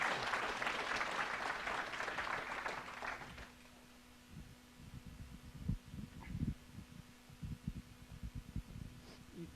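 Brief applause from a small audience after a keynote on Ember.js at a 2015 conference, fairly faint and fading within a few seconds into quiet room noise, scattered knocks and a low hum.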